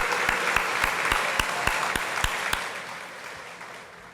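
An audience at a 2023 State of the City address applauds Port of Stockton workers. The clapping begins with a few sharp, rhythmic claps over a steady wash and gradually fades toward the end.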